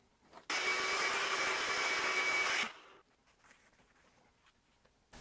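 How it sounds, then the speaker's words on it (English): A vacuum cleaner sucks string fragments off the fretboard of a 2013 Fender American Professional Jazz Bass, roaring loud and close for about two seconds before cutting off, leaving faint handling noises. "I typically like to come in with a vacuum at this step and just suck all the little fragments off first"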